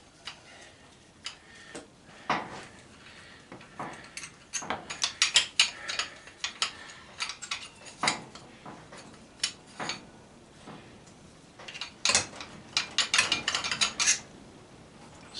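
A handheld Torx driver ratchets while unscrewing a fastener on a scrapped air compressor motor, producing irregular clusters of close, crisp ticking clicks with short pauses between turns.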